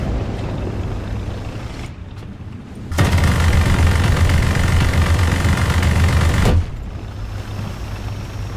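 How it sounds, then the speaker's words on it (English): A tank engine in the video game War Thunder swells into a loud, heavy rumbling roar for a few seconds before dropping back to a lower background drone. "I could hear engine sounds to the left."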